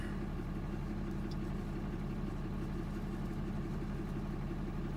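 A truck engine idles nearby outdoors at a campsite, a faint steady low rumble holding evenly throughout with no other clear sounds.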